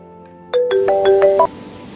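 A phone ringtone sounds for an outgoing call, a short melodic ringing pattern of about six quick tones, close and clear, with no talking.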